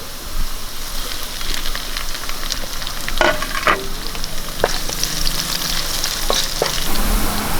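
Chopped green chillies fry in hot oil for a Kerala-style rose apple pickle, a dense, loud sizzle running throughout with occasional scraping clicks of a stirring spoon and no voices.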